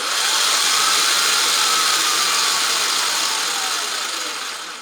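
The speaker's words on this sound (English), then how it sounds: "So if I put this on here, then if it sounds powerful, then you know the solenoid's no good." A Bosch starter solenoid connected to a battery for testing gives a loud, steady, close whirring drone that holds for several seconds and then fades slightly, with no voices.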